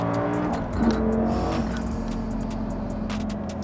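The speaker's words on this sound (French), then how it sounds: "quand il accélère et qu'il passe le rapport, ça revient." A Lamborghini Gallardo Superleggera accelerates hard nearby, its engine note rising and then dropping into a steady pull after a quick gear change, loud and without speech.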